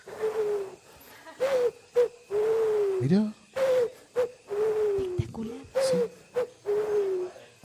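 A person imitates a pigeon call with repeated soft, hooting coos in a steady rhythm, each a short tonal note, close to the microphone, with brief talk between them.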